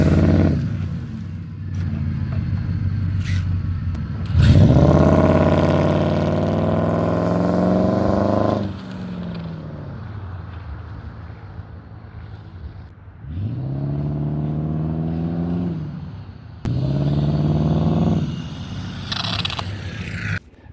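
Small electric RC Porsche LeMans racecars, SG918max V2 models on 3S, race at full throttle, with rising whines surging in several loud bursts between quieter stretches and a scrape or two.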